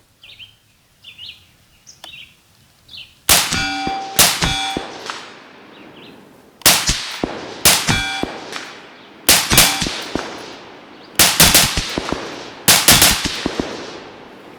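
Steyr AUG light machine gun firing short bursts at steel targets 250 yards away on an outdoor range, each loud burst followed by ringing metallic clangs, repeated about seven times with brief pauses between.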